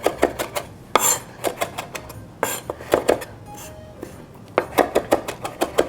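A knife chops vegetables on a cutting board, the blade turned and worked back and forth in a run of close, crisp, irregular taps and scrapes.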